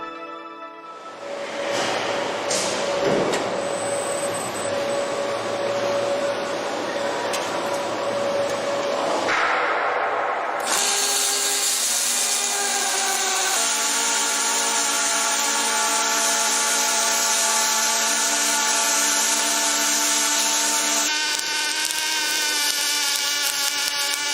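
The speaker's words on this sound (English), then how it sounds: "Shall we go to the welding robots? Let me play this. Kuka." KUKA industrial welding robots run continuously, a steady whining, buzzing machine drone that shifts to a brighter, denser tone partway through, with no speech.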